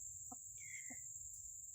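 Free-range village chickens on a coffee plantation give a few short, faint clucks amid quiet outdoor ambience with a steady insect-like hum.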